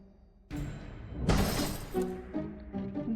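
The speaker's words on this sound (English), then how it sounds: "There's a crash out the back, the sound of something shattering." A loud crash of something shattering in the back of a shop in the video game Arcadia Fallen, a sudden burst of breaking debris that rattles on for about a second before settling into lighter clatter.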